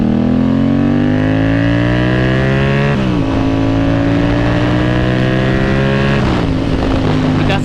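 A 2024 Yamaha R7 motorcycle engine drones loud and close while riding, with harmonic pitch climbing steadily through the gears and two clear drops at the upshifts, wind rushing over the microphone throughout.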